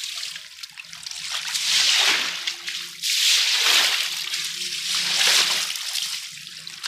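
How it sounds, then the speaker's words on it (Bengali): Rainwater rushes and splashes over a rooftop in Pakistan, in loud surging waves that swell and ease every second or two, with a faint tone beneath and no talk. "এই দেখেন পানির তুফান বয়ে গেছে"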